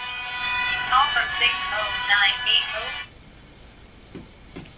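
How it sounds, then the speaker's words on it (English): A mobile phone rings with a spoken incoming-call announcement, a synthetic voice reading out the caller over a tonal ringtone for about three seconds before it cuts off, leaving a quiet room. "Sorry about that. That's my phone"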